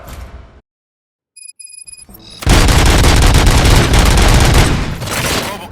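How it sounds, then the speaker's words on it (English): Gunfire erupts in the video game RoboCop: Rogue City, a dense, loud burst of rapid shots and booms that follows a brief silence and a few electronic tones, lasting several seconds. "Gunshots? What's going on?"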